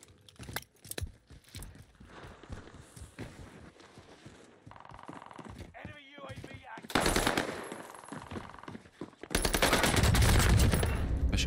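An H4 Blixen SMG fires in a video game in rapid automatic bursts, with scattered single shots between them. Some bursts are sharp and loud, others more distant. Movement noises and brief gaps break up the firing, and a long, heavy burst comes near the end.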